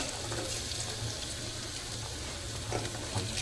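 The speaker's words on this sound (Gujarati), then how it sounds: "સૌથી પહેલા બટેકા નાખી દઈએ" Potatoes dropped into hot oil and starting to fry, giving a soft, steady hiss with a couple of small bursts near the end, close but fairly quiet.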